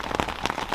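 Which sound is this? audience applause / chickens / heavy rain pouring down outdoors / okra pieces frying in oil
heavy rain pouring down outdoors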